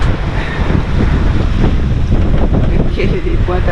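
Sailboat crossing the Pacific, pitching hard through rough waves in strong wind at around seven knots; loud, continuous rush of wind buffeting the microphone over churning water, with faint voices briefly in the background.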